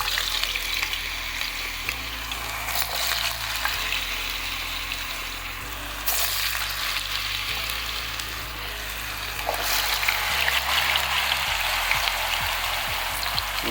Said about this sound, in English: you chop them up into cubes, and you put some oil in a skillet